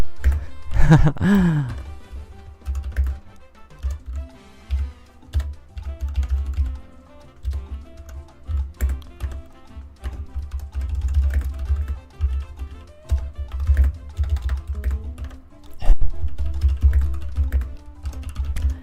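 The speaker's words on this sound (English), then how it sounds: "So I'll just type it into Don right now if my keyboard will work." Typing on a computer keyboard, a steady stream of sharp clicks and key taps in irregular bursts, close and fairly loud, with a brief electronic sweep near the start and no talking.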